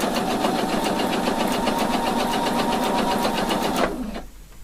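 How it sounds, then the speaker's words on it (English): A sewing machine runs steadily, stitching a 1 centimetre seam allowance on a lapel collar up to the shoulder: a close, rapid mechanical chatter of needle strokes for about four seconds before stopping abruptly. "So I start sewing this 1 centimeter of seam allowance. Just sew it to the shoulder."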